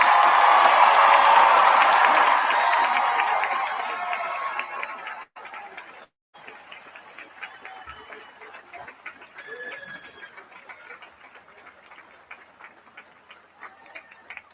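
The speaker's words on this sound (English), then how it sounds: "How about one more round of applause for the class of 2026?" Large graduation-ceremony audience applauding in a hall, a loud sustained wash of clapping that fades out after about five seconds, followed by quieter room noise and scattered faint sounds.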